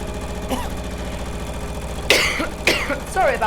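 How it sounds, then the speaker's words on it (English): A couple of sharp coughs break out over a steady, low sewing machine hum, the second following shortly after the first. "Sorry about my cough, by the way."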